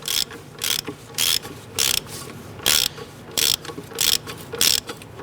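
A hand ratchet clicks in about ten quick, sharp bursts with short pauses between, snugging down the single nut on a strut bracket of a 1994-2004 Ford Mustang, close up and clear.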